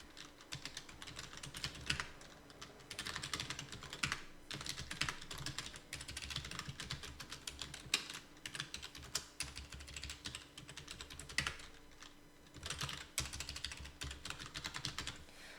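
Steady typing on a computer keyboard during a spreadsheet exercise, with quick clusters of key clicks in bursts and short pauses, close and fairly quiet, without talk.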